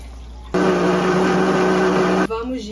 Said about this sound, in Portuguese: vou bater no liquidificador com água esse brócolis aqui